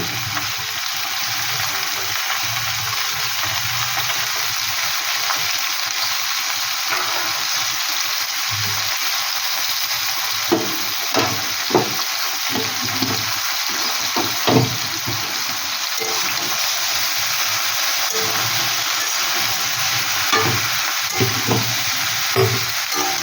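Vegetables with a little ginger paste fry in a pan with a steady, close sizzle, while a utensil stirs them in repeated scraping, clattering strokes.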